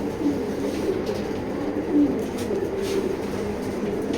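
Pigeons coo softly and steadily in a loft, a low murmuring chorus of several birds with a brief louder coo now and then, no one talking.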